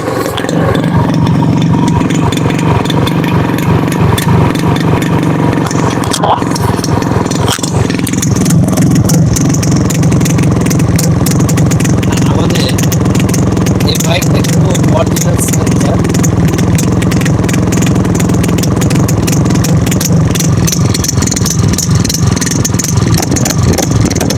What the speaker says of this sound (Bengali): এবার বাইকটা স্টার্ট করে সাউন্ড দেখাবো